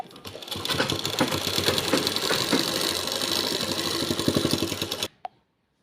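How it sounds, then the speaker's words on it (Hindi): A sewing machine runs a fast, steady line of stitching over elastic on a trouser waistband, the close, even needle rattle lasting about five seconds before stopping with a single click. "अब इसके ऊपर हम एक सिलाई लगा लेंगे"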